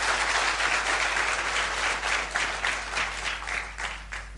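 A church congregation applauding during a Friday service, a dense, steady wash of many hands clapping together at close range for several seconds, with no talk.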